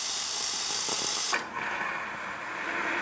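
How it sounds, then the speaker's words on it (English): Steam hisses strongly from the steam wand of a Philips Saeco Celsius coffee machine after service, a loud steady rush that briefly dips and then continues at a slightly lower level. "Really great temperature, excellent steam flow coming out of the steam one."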